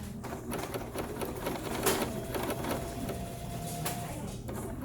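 A sewing machine runs a continuous stitching burst along a quarter-inch sleeve seam, steady and close with a faint rattling under it, and no talking.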